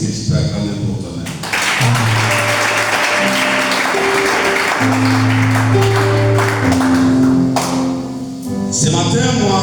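Church congregation applauding and cheering during a French-language service, sustained loud clapping and voices over sustained organ or keyboard chords, with a short pause midway before the applause resumes.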